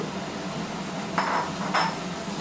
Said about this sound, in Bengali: এবার আমি উচ্ছে ভাজাটা এর মধ্যে দিয়ে দেব।